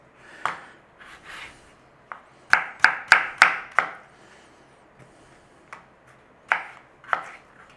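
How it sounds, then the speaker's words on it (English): A knife chops through potatoes on a cutting board, dicing them into cubes in sharp close knocks, a quick burst of several in a row between scattered single cuts. "we want to be cubing the potatoes"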